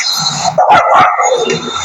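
A cartoon dog barks loudly in a short burst of several yips and barks, close and alone without talk.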